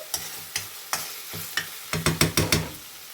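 Bell peppers cooking in a wok for chilly prawns, with a close, steady sizzle broken by repeated scraping stirs that quicken into a rapid run toward the end; nobody speaks.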